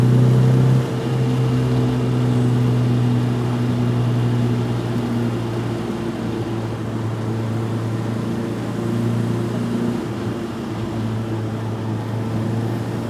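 A 1970 MGB classic sports car drives along, its engine a steady low drone with a faint rise and fall in pitch, heard from inside and continuous throughout with no talking.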